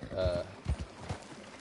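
Horse hooves clopping in Red Dead Redemption 2, a few soft, uneven thuds spread across a short stretch, heard close under steady talk.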